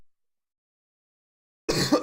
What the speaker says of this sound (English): I think I just coughed into the mic.